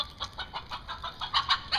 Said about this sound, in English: Is there a chicken over there?